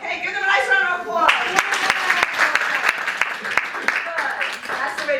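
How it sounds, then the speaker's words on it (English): Lively applause breaks out from an improv class audience, many hands clapping in a rapid, uneven patter, following and partly mixed with a voice speaking. "give them a nice round of applause"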